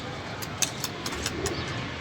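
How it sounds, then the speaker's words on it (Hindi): A pigeon coos softly on a sunny rooftop, a few faint soft calls against a low outdoor background with occasional sharper clicks. "कबूतर एक खेल रहा था"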